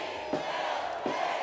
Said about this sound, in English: Signs and chants filled the area.